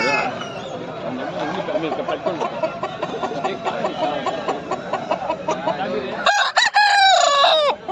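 Among lively crowd chatter and talking at a busy village livestock market in Pileru, a rooster lets out one loud, close crow near the end, with scattered clucks beneath.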